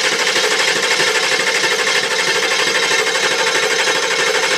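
A Ford 7.3 Powerstroke diesel engine with one glow plug removed cranks for a compression test, a loud, even, rapid chugging churn that runs continuously and close up.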